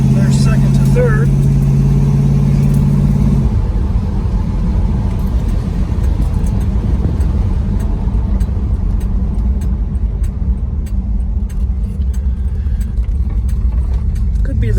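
A 1967 Dodge Coronet 440 driving and shifting from first to second to third, its mid-pitched engine droning steadily and loudly inside the cabin while someone talks over it.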